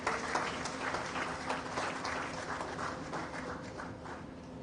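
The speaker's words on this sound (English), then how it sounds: "Please, another round of applause for him." Audience clapping for Professor Ede at a formal gathering, a steady round of applause that stays fairly even throughout, with a slight fade near the end.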